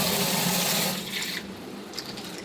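Tap water runs steadily into a pot being filled for tea, a strong broadband rush for the first second that then drops to a softer trickle and splashing, close by with no talk.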